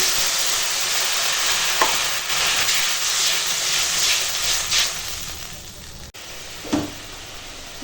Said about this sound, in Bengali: এখন মশলা কষানো হয়ে গেছে আর দিয়ে দেব জল